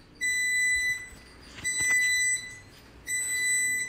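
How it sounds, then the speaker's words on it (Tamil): A mini washing machine sounds three long, high electronic beeps separated by short pauses, clear and fairly close. "so beep sound கேட்டுருச்சு"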